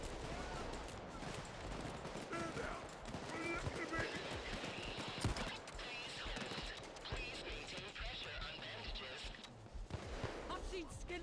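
A Peacemaker .45 single-action revolver fires repeatedly in the game Payday 2, with loud sharp reports spaced through a busy mix of combat noise and someone talking over the shooting.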